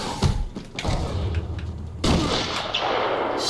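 Gunfire in the video game Batman: Arkham Asylum, a few sharp shots early on followed by a sustained loud burst of noisy blasts that carries to the end.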